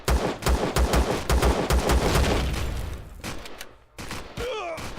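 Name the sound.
enemy gunfire in the video game Empyrion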